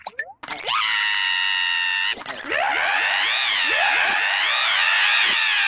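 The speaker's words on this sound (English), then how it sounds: "the essential screams from Nokotan are definitely the most interesting" Screaming voice effect of the deer girl Nokotan from the anime Deer Friend Nokotan, loud shrill sustained shrieks with wavering pitch, broken by a brief pause and sliding boing-like accents.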